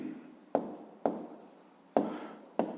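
A pen on paper makes faint scratchy strokes while writing out a square-area formula for a fifth-grade math exercise, with four sharp taps at the start of new strokes, close and quiet.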